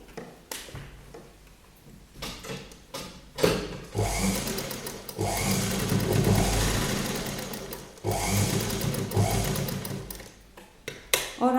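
A sewing machine stitches a kurti seam on the garment's reverse side in bursts of rapid, close mechanical chatter, with short pauses between runs and no talk.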